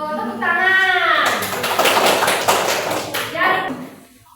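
Children clapping hands together in a classroom, a quick run of sharp claps following a sung or chanted voice, with children's voices mixed in.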